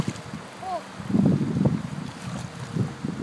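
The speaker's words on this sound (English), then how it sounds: "It's windy as hell out here, guys." Gusty wind buffets the microphone in low rumbling bursts outdoors, with faint water and a brief high chirp in the background.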